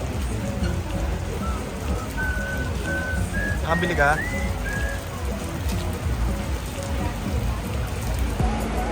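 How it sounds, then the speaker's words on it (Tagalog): Steady heavy rain at an airport in Bangkok, Thailand hisses across the whole clip, with a brief whistle-like tone midway and a short spoken question over the downpour. "Sobrang lakas ng ulan."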